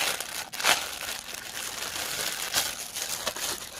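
Plastic wrap crinkling as it is pulled off a pink Treasure Studios Art bag, a few sharp rustling bursts separated by quieter handling, close and fairly loud, with no talk.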